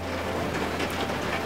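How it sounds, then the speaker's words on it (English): Steady rain falls outside as a dense, even hiss of drops, continuous and moderately loud with no voices. "If you can hear it right now, it's actually raining as I'm doing this"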